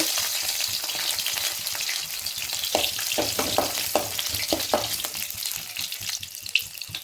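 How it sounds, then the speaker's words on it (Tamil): Ginger and garlic fry in hot oil for a pachai milagai kuruma, giving a steady loud sizzle with crackling pops and a few stirring scrapes midway, no voices. "இப்போ எண்ணெய் காஞ்சிடுச்சு. இதில் இப்போ நான் நல்லா ஒரு விரல் அளவுக்கு இஞ்சி எடுத்துருக்கேன், அதை போட்டுக்கோங்க."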